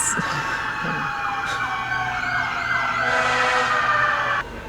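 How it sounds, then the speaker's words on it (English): Emergency sirens wailing outside near an airport, several overlapping tones rising and falling, moderately distant and continuous, cutting off abruptly near the end. "There's a ton of sirens happening outside."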